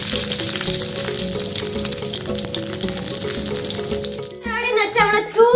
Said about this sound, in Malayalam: ഈ കരുവേപ്പില നമ്മളെ ചൂടുള്ള ഓയിലേക്ക് ഇടാനുള്ള പരിപാടിയാട്ടോ